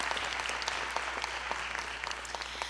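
An audience at an evening awards ceremony breaks into steady, dense clapping for a middle school singing contest winner, with no voice standing out.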